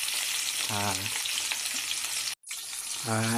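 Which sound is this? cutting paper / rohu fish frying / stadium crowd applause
rohu fish frying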